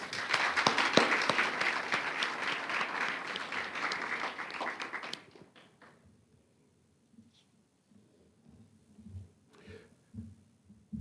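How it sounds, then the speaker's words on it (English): Audience applause at an MLK celebration fills the first five seconds, a dense crowd clapping, then it cuts off into a quiet room with faint shuffling and a murmur. "one more round of applause, please"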